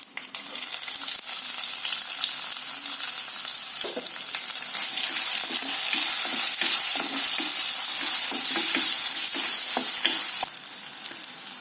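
Chopped large onion frying in hot oil for a greens sambar, a loud, continuous bright sizzle with soft scraping stirs throughout, no talk.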